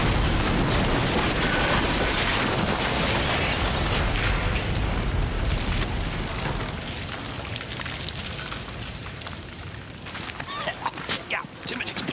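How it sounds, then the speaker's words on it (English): An oversized explosive charge goes off during a test of thick glass, a loud roaring blast that fades slowly over several seconds and ends in scattered crackles and pops of falling debris. "Well, that was quite a big bang."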